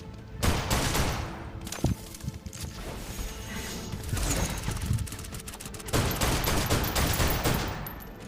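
Rapid gunfire rattles through a battle in the video game Snowbreak, dense bursts and sustained volleys mixed with impacts, loud and continuous.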